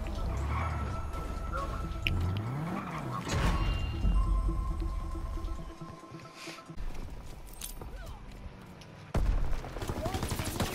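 Bursts of gunfire hit the player in a video game, sharp cracks and rattling volleys scattered across the scene amid crashes and game effects, with a voice talking over parts of it.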